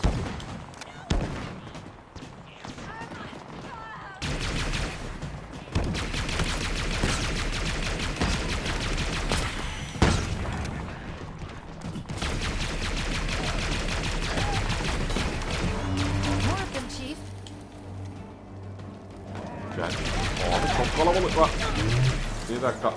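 Gunfire in Halo Infinite played on Xbox Series X during the Ik 'Novus boss fight, repeated rapid bursts and single shots amid explosions and game effects, with someone talking over much of the action.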